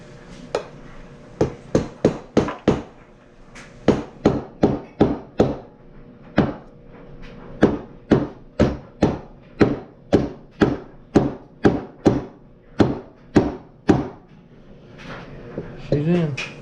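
Sharp hammer blows ring out close by as a part is driven into a Kawasaki KX65 engine, around two dozen strikes in irregular bursts with short pauses between runs, loud and percussive.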